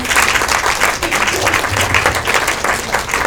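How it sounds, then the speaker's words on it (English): An audience at an advocacy gathering claps steadily together in a sustained round of applause, dense and close, holding an even level throughout. "Can we give them one more round of applause for all the work that they did?"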